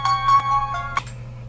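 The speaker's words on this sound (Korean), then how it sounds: "전화가 왔네요" A phone ringtone for an incoming call plays as a bright repeating electronic melody over a low steady hum, close by, then stops abruptly after about a second and a half.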